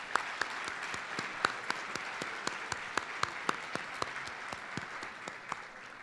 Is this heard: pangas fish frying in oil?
no